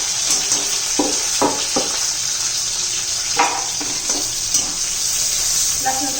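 Chili and onion sizzling in hot oil in a pan for besan pitla, with garlic added, a steady fry hiss broken by scattered stirring scrapes and clinks at close range.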